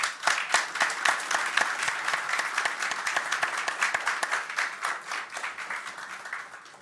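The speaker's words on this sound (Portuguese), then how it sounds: "Palmas para o Rubens." Sustained crowd applause at a formal civic ceremony in Osasco, Brazil, many hands clapping at once, loud and steady at first, then slowly thinning out toward the end.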